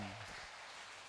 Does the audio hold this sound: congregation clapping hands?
yes